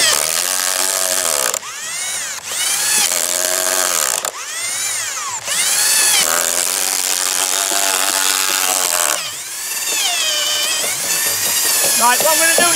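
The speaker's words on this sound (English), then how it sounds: "I've got this Makita drill. I've got a 25mm auger drill bit in it." Makita power drill fitted with a 25mm auger bit boring holes into a timber base frame for a garden office, loud whirring bursts that rise and fall in pitch with short pauses, with a voice talking over it.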